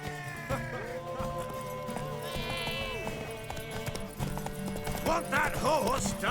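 A horse gallops in a video game, steady rhythmic clip-clopping hooves with an occasional whinny, under a musical score while someone speaks over the action.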